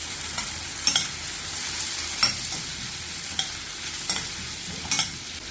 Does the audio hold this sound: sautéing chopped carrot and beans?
yes